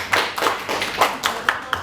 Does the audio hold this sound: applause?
yes